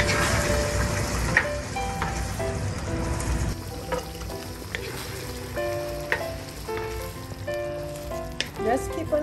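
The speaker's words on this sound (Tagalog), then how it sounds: "Just keep on stirring." Panang chicken curry with coconut milk sizzles steadily in a pan while a utensil stirs it, scraping and clinking now and then over a constant frying hiss, close and loud.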